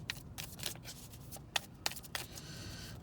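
Oracle cards shuffled by hand in a quiet room, giving a run of soft papery riffles and flicks with a few sharper snaps, close and alone with no talk.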